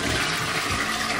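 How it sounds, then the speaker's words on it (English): Close, loud flush of a small plastic toilet inside a shed converted into a tiny house: a steady rushing gush of water that fills the whole moment, with no talking. "That's your small flush?"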